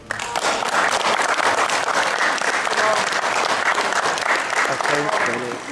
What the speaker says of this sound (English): give a big round of applause for Thailand